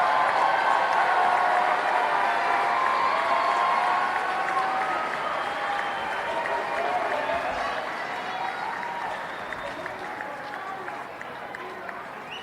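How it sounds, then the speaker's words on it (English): Graduates at a university commencement ceremony applaud their families and friends, a large crowd's clapping that starts strong and gradually fades, with some voices mixed in. "Let's give your family and friends a round of applause."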